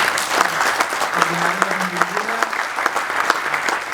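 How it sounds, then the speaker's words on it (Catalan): Loud audience applause fills a Catalan National Day gathering in Prats de Molló, a dense sustained clatter of many hands running throughout while a voice speaks over it. "ens demana un fort aplaudiment per ell"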